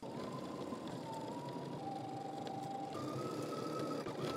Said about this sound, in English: now we're going to head to the sewing machine. We're going to stitch the entire top using 5/8 of an inch seam allowance.